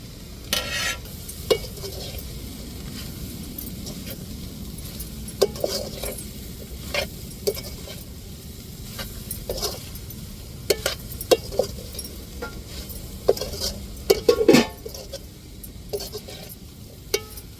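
Fried prawns stirred into noodles in a pan, with repeated utensil scrapes and light metallic clinks over a soft sizzle, close and intermittent across the stretch, no talking.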